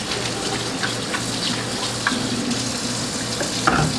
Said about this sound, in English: I'm going to do a quick rinse.